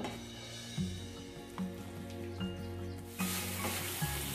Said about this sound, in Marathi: साईडने तेल सुटेपर्यंत व्यवस्थित परतून घ्यायचं आहे.